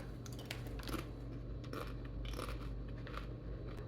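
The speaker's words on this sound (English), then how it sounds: "This is a nice crunch." Cassava chips fried in palm oil and salted are bitten and chewed, a quick series of faint, close crisp crunches with no talking.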